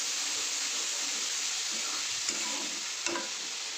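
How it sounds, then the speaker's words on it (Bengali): Ground spice paste sizzles steadily in hot oil, a loud, close, continuous frying hiss with a couple of brief stirring scrapes near the end. "তেল গরম হয়ে গেছে এবারে সব মশলাটা তেলে দিয়ে দিচ্ছি"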